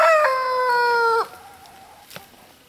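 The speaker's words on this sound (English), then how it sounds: "Little chicks." A chicken crows loudly for about a second, a clear harmonic call, then gives way to faint, quieter clucking sounds with a short click near the end, with no talking.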